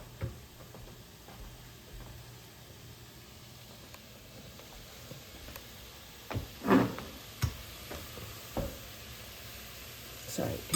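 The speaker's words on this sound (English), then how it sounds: "that noise is me with the stool." A kitchen stool scrapes and knocks on the floor in a few brief bumps, heard over the steady sizzle of vegetables cooking on the stove at medium-high heat.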